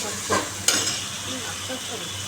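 Spice masala for a fish curry, with salt and green chillies, sizzles gently in a pan as it is stirred and fried. A spoon scrapes briefly a couple of times over the steady, close frying hiss.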